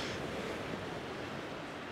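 Sea waves washing onto the shore at Simeiz in Crimea after a storm, a soft, distant, continuous surf roar with no voices.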